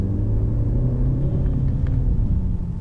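A 260-horsepower Mercedes-Benz C300d diesel engine, fitted to the 2022 C-Class, gives a steady, loud low rumble that holds throughout with little change in pitch.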